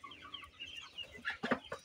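Sonali chickens clucking softly in a coop, a few short close clucks gathering toward the end over quiet murmuring bird sounds and faint background noise.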